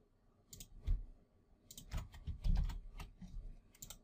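Computer keyboard keys pressed as hotkeys during 3D modeling work, a sparse run of soft clicks and taps, some doubled, close and fairly quiet, with no talking.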